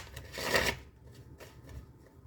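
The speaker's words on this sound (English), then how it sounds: "And we'll give her one more shuffle." A deck of tarot cards is shuffled in one quick riffling burst, close by, followed by a few soft card taps and handling sounds.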